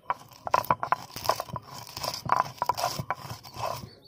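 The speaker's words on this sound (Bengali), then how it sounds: "তার জন্য আমি এই শিলে বেটে নিচ্ছি।" Spices for a spicy fresh-mango pickle are ground by hand on a stone slab (shil), making close, irregular scraping and crunching strokes in quick rhythmic bursts, with no talking.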